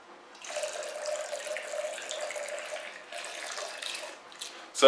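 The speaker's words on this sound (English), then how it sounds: "The fact that you can just spray water wherever you need to." Water sprays from a Geigerrig Tactical 1600 pressurized hydration pouch, a steady hiss running for several seconds with a brief pause, close and fairly loud, ending in a sharp splash.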